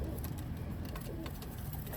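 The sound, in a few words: Oman Teddy pigeons cooing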